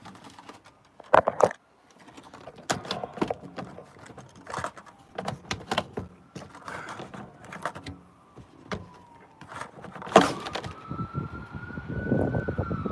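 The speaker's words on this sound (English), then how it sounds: "There's a siren. It's gonna come drive by me." A siren wails as it drives past, rising and sweeping near the end, amid clattering, irregular thumps and knocks close by.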